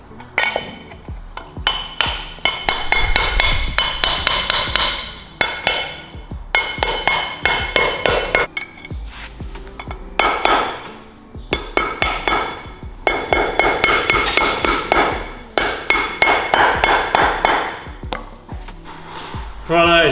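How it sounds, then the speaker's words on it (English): A plastic hammer taps a bearing cone into a caravan wheel hub in repeated bursts of sharp, close knocks, with short pauses between runs of blows, and no talk. "I've got my plastic hammer. I'm just gonna tap that until I can't tap it anymore"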